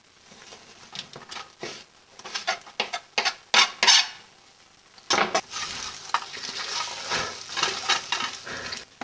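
Celery fries in a pan over a live flame and is stirred briskly, giving a rapid series of loud scraping, clattering strokes, then a denser stretch of sizzling and stirring, with no voices.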